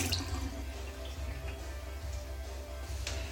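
A leopard gecko's plastic box is rinsed under a running tap, with a steady close stream of water splashing and a few drips, alone and without speech.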